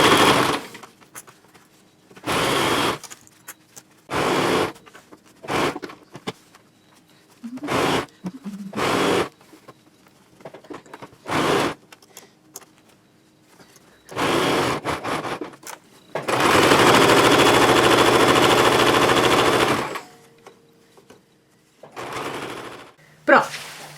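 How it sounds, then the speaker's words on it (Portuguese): Domestic sewing machine stitching a fabric apron with a hanging loop, close and loud in repeated short bursts, with one long continuous run near the end, separated by pauses. "Costurei ele todinho de fora a fora, desde a ponta"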